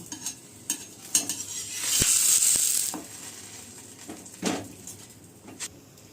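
Wheat malida dough pressed and roasted in ghee on a pan gives a soft sizzle, with a swell of frying hiss and scattered scraping and tapping from a utensil pressing and stirring the dough.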